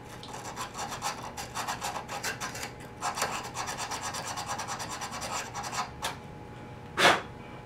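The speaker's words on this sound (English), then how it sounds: "Just got some 500 sandpaper right here to get off any of that corrosion that's on there" A corroded electrical connection on a pinball machine is rubbed with 500-grit sandpaper, making fast, rhythmic raspy scrubbing strokes up close, pausing briefly before one louder final scrape.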